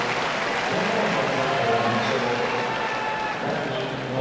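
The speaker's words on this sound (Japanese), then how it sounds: "足が45度以上上がったところで拍手が起こるんですよね" Crowd in a sumo arena at the Nagoya Basho bursting into steady applause as a wrestler raises his leg high in the shiko stamp, a dense, continuous wash of clapping filling the hall.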